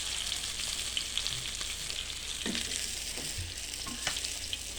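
Tilapia fish frying in a pan gives a steady, close hiss and crackle, with scattered small pops and the occasional scrape of stirring throughout, and no one speaks.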